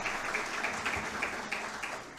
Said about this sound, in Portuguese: Eu acho que merece até uma salva de palmas, a família do senador.